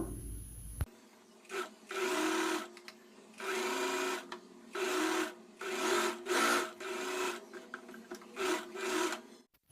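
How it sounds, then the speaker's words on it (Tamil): A sewing machine stitches main and lining fabric together for a kurti, running in a series of short whirring bursts separated by brief pauses, close and clear. "நம்ம இதை சுற்றி வந்து மெயின் ஃபேப்ரிக்கும் லைனிங் ஃபேப்ரிக்கும் ஒன்றா வச்சு ஸ்டிச் பண்ணிக்கலாம்"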